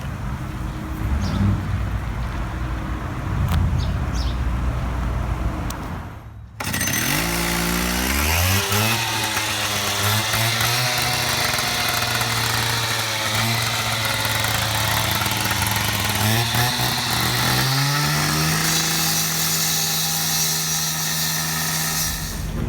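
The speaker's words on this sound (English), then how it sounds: "So now I'm going to saw cut the outer perimeter where we're going to be replacing the asphalt." A power saw idles, then revs and bites into asphalt around a catch basin, a loud continuous grinding roar with shifting engine pitch that persists for most of the stretch.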